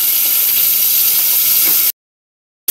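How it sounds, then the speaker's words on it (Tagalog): Pork pieces fry in a pan for a mung bean stew, giving a loud, steady sizzle and hiss that cuts off abruptly and then briefly returns. "Yan, nagpo-fry na ako ng kaunting pork."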